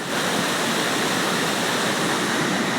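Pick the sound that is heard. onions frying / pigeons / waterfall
waterfall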